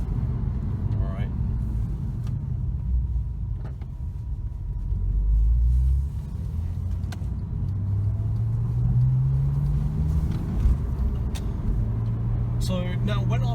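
Porsche 911 Carrera 997.2 with a 3.6 litre engine accelerating hard, a loud steady engine rumble rising in pitch through the gears, heard from inside the car with someone talking over it.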